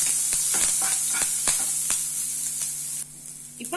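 Dried red chilies, onion and curry leaves sauté in a pan with a loud, bright, steady hiss and a rhythmic series of spatula taps and scrapes, the sizzle easing briefly near the end.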